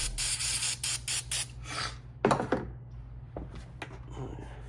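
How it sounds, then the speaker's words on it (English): Degreaser sprayed onto a rag during an intake manifold swap on a 5.7 Hemi engine: several short, close spray bursts in a quick series, then a longer hiss and scattered rubbing and handling noises. "I'm about to go ahead and use some degreaser on a rag, so try to clean them."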